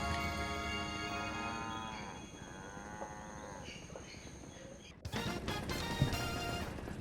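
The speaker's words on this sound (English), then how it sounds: "Also known as cows!" Cows moo on the Moo Moo Meadows track in Mario Kart Wii, several drawn-out lowing calls over game music, followed by a sudden louder burst of music and sound.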